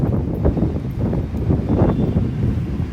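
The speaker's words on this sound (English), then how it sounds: "You guys hear all that wind?" Strong wind gusting through a city street, a loud, steady low roar with buffeting bursts against the microphone and no voices.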